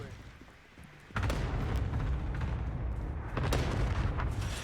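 Rapid automatic fire from an M13 rifle loaded with blackout rounds in Call of Duty: Warzone, a dense, sustained, loud burst that begins about a second in and continues steadily to the end.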